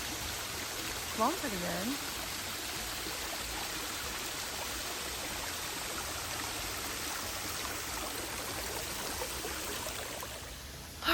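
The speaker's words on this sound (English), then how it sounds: "here is a small waterfall" A small waterfall on the Appalachian Trail gives a steady broadband rush of falling water, constant and fairly near, with someone speaking briefly over it.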